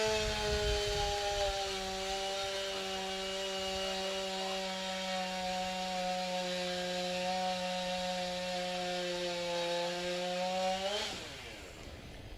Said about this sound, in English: So one cylinder's been taken off, part of the crankcase, and it's been made into a chainsaw.